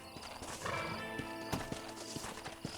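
Horse hooves clip-clop steadily in Red Dead Redemption, with a whinny breaking in over a busy background of game music and ambience.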